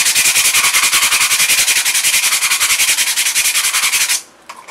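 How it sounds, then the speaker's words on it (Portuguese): Sandpaper rubbed by hand along the side of a primed, base-coated surface, a steady rapid back-and-forth scratching rasp that runs loud and close for about four seconds, then stops abruptly. "Lixa toda a lateral."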